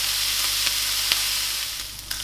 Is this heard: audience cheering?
no